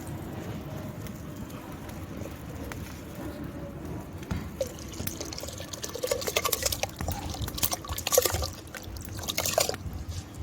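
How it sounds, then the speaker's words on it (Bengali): Rice poured into hot water in a clay pot on a stove, faint low simmering at first, then splashing, trickling pours and bursts of grains hitting the water, close and without talk. "এবারে আমি চালটা ছেড়ে দেবো"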